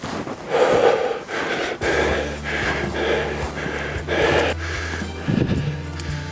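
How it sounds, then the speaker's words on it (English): Heavy, close breathing of a hunter after pushing hard uphill while stalking a bull elk, with repeated loud gasping inhales and exhales in an uneven rhythm and no talk. "You can tell from my heavy breathing that we had just about gone as fast as we could handle"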